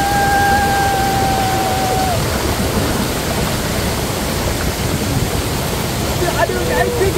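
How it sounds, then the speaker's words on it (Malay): Steady, loud broadband roar of the waterfall at Batu Bertenggek, filling the whole clip continuously, with a faint whistle-like tone at the start and people talking over the rush of water. "Ada air terjun satu bertengger."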